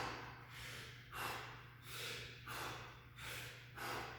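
Forceful, rhythmic breaths during a workout exercise, five or six sharp whooshing exhales about every 0.8 seconds, close and fairly quiet over a low steady hum.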